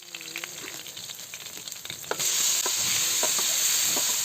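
Tulingan (mackerel tuna) sisig frying in a hot pan with soy sauce, steady loud sizzling that surges sharply about halfway through as the fish goes in, with light clinks of stirring.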